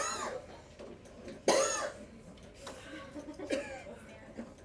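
A person coughs a few times in a quiet room: one sharp cough stands out, with softer coughs and throat noises around it.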